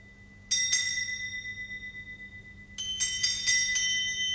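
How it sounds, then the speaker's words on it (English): Bells ringing out in an old-time radio Christmas ghost story, a first short burst of bright chimes that fades, then a louder cluster of repeated rings, clear and alone without talk. "But soon it rang out loudly, and so did every bell in the house."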